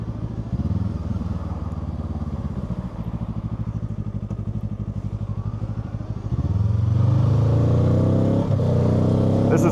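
A 2025 Kawasaki Ninja 7 Hybrid motorcycle accelerating at full throttle in auto mode, its engine note climbing steadily, then a shift and a louder, rising pull near the end, heard up close.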